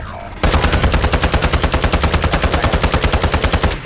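Rapid automatic gunfire from a weapon in the Plunder mode of a shooter video game, a long unbroken burst of evenly spaced loud shots after a brief quieter lead-in.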